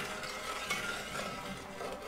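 A spoon stirs simple syrup heating in a pot on the stove, giving a soft continuous scraping swirl with faint sizzle underneath, steady and close for a couple of seconds.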